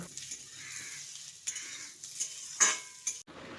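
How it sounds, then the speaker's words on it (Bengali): Diced potatoes stir-fried in a pan, with a soft sizzle and intermittent scraping and clinks of a spatula against the pan, fairly quiet and close, with no talking. "এবার আলুটা দিয়ে বেশ কিছুক্ষণ নাড়াচাড়া করে নেব যতক্ষণ না আলুর গায়ে একটা হালকা রং ধরছে"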